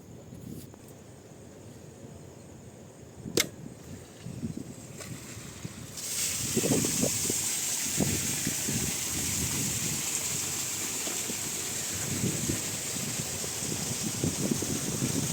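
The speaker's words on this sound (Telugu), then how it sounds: "దగ్గర దగ్గర ఒక 3 మీటర్ల డిస్టెన్స్లో అయితే పోస్తుంది మోటార్ వచ్చేసి వాటరు" Water from a 5 HP Lubi submersible pump outlet bursts out partway through the clip. It turns into a steady, loud gushing rush with irregular splashes. Before the burst there are only faint outdoor noises and a few knocks.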